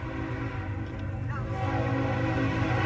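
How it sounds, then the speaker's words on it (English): Freight train rolling past with a dense, rumbling roar that grows louder over a few seconds, a brief horn-like tone in the mix. "It's coming really fast if it's my train. No. Okay, good. It's a freight train."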